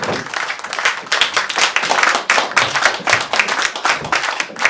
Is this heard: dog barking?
no